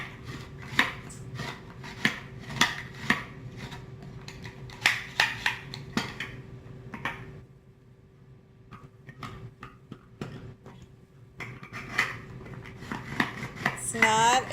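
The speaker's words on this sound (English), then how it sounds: "Put your clove of garlic in and just put this on top and shred." A garlic clove rasped through a Microplane garlic shredder gives rhythmic, crisp scraping strokes, close and fairly loud, with a brief lull midway before the strokes resume.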